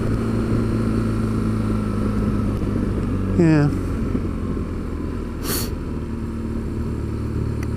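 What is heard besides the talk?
old motorcycle engine running, double overhead camshaft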